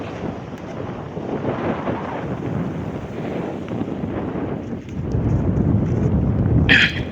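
Wind gusts steadily across the open water of the Kakri beel wetland, a loud, rough, buffeting rush that strengthens toward the end, with no talking.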